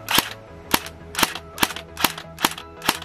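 Electric airsoft MP7 fitted with an electronic trigger, firing a steady stream of sharp cracking shots about twice per second, loud and close with no voices.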